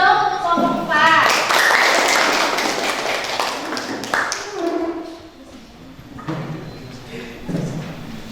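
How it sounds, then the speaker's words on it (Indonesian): Applause from a classroom audience welcomes student group 4 to present at an Indonesian university teaching-practice session, scattered clapping and thumps that fade out partway, with voices talking over it. "Tepuk tangan dulu dong untuk kelompok 4"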